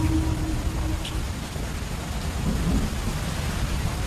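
A thunderstorm with rain over a Yawalapiti village: steady, dense rainfall hisses throughout while low thunder rumbles underneath, loud and enveloping for the whole stretch.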